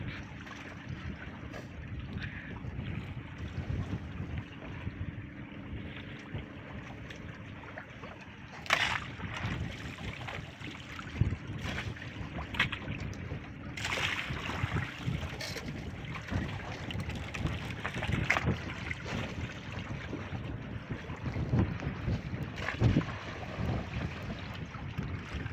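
Wind buffeting across open sea near boats off an island, steady rushing noise with gusty bursts and microphone wind rumble, faint water movement beneath, no talk.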